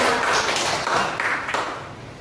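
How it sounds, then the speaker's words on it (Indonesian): Audience clapping at a school teachers' session: a dense, even wash of applause from the start that fades slightly toward the end. "Tepuk tangan untuk semua"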